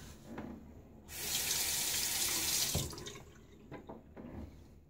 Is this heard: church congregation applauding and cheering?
no